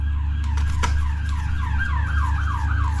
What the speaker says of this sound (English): that sounds like the cops